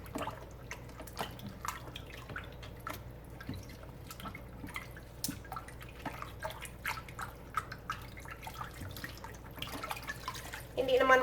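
Vegetables are washed under running water at a sink, with a steady faint trickle and scattered drips and splashes of handling, ending in a louder gush near the end.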